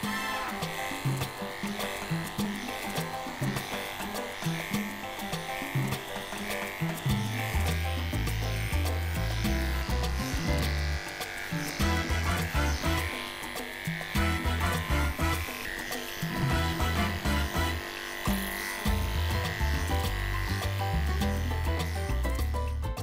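Electric dog clippers working through a miniature poodle's curly coat, a continuous buzzing hum that shifts in tone as the blade glides through the fur, steady and close throughout.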